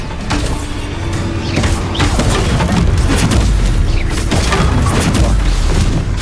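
Spell blasts boom and crash in a Hogwarts Legacy combat fight, a loud dense burst of Bombarda explosions and impacts layered with clattering game effects and shouted incantations.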